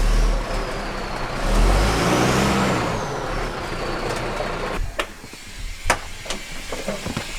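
A truck engine revs loudly up close, its pitch rising and falling over several seconds before dropping back to a rougher idle punctuated by sharp clanks.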